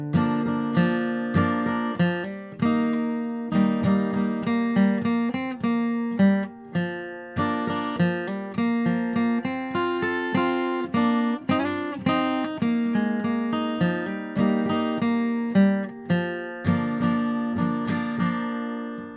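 An acoustic guitar plays the melody of "Tom Dooley" in a slow playthrough, picking notes one by one with bass notes mixed in, steady and close for the whole stretch with no voice over it.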